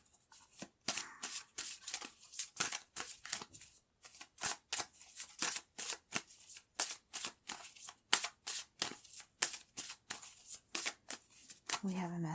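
Tarot cards are shuffled over and over in quick crisp riffles and slaps, arriving in rapid bursts with short pauses between them, close to the listener.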